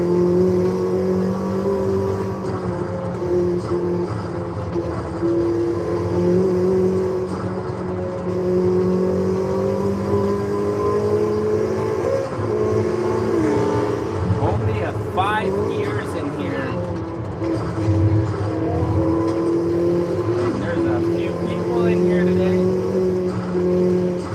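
Car engine in Forza Horizon 5, a 1994 car with a short first gear, droning steadily near the red line with sustained high revs and shifting pitch, loud throughout while someone talks over it.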